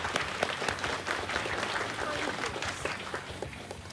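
Applause from a competition audience for a quizmaster at an Ipswich readers' cup event, a steady wash of many hands clapping close by, with some murmuring voices mixed in throughout.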